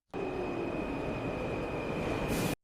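A subway train arrives at a platform with a steady, loud roar and rumble and a thin sustained squeal above it, ending abruptly.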